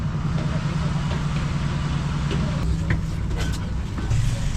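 Steady engine drone from a cargo boat on the Amazon river, a continuous loud low rumble with faint higher clatter on top, heard throughout without a break.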